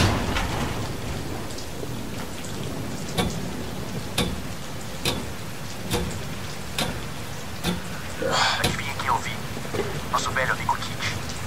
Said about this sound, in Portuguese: Olha o som da chuva.